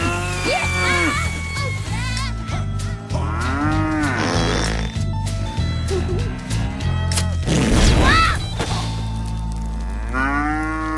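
Several cows on a farm mooing repeatedly and loudly, overlapping calls near and far, with crashing bangs in between and someone talking throughout.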